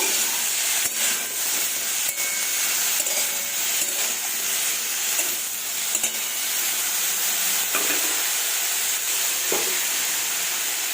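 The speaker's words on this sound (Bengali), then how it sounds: "তেলটা গরম হয়ে এলো গরম হয়ে যাওয়ার পরে কেটে রাখা বেগুন দিয়েও দিয়ে দিলাম অল্প একটু ভাজা ভাজা করে নেব" Cut eggplant sizzles steadily in hot oil, a dense continuous crackle and hiss with faint stirring clatter, close and unbroken for the whole stretch.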